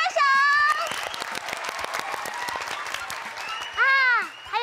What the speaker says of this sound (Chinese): 大家很棒，帮自己拍拍手。